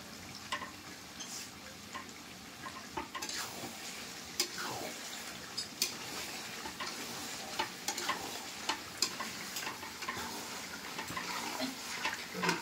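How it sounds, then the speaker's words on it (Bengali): Goat meat being stir-fried in a pan, giving a low continuous sizzle with intermittent scraping and clinking of a utensil, moderately close but fairly soft, no one talking. "এখন বাবা মাংসটা কষে নিচ্ছে ভালো করে"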